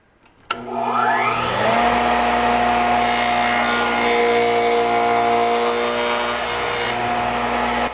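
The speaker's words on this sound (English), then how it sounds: "now I'm going to cut my tenons in the cross pieces" A power saw spins up with a sharp start and rising whine, then runs loud and steady as it cuts tenons in wooden cross pieces for a butterfly leaf table, holding a strong, even tone throughout.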